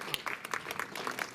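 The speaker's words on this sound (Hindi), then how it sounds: "एक बार जोरदार तालियां" Applause from an audience at an outdoor awareness camp for construction workers in Chamba, Himachal Pradesh, a steady patter of many hands clapping at moderate distance for just over a second.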